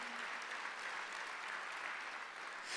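A church congregation applauds during a Sunday worship service, a steady dense wash of many hands clapping together at moderate distance, continuous throughout with no break.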